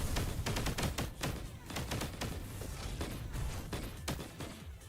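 Rapid gunfire from the video game Punishing Gray Raven rattles in quick repeated shots, steady and fairly faint, with no talking over it.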